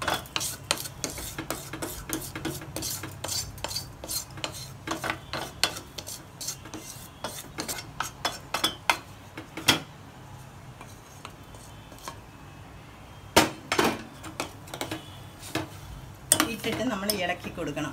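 Roasted vermicelli stirred into milk in a pot for semiya payasam, a rapid series of close metallic spoon clinks and scrapes against the vessel, with brief pauses between strokes.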